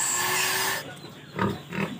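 Pigs on a farm grunt and squeal close by. A loud, sustained squeal at the start gives way to two shorter grunting bursts.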